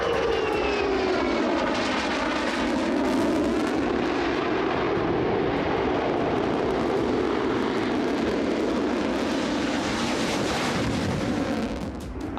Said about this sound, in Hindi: आसमान में इजरायली फाइटर जेट की आवाज